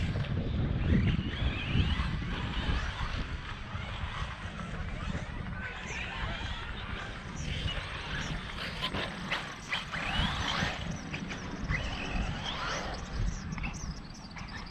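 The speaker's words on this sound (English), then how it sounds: "wind's just really messing with it." Wind buffets the microphone during the flight of an RC Air Tractor model plane, a continuous rough rumbling roar throughout, with someone talking over it.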